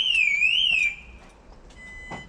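Alarm on a 2018 Tracker EKS camper wails loudly with a rising and falling electronic tone, then cuts to a quieter steady beep after about a second.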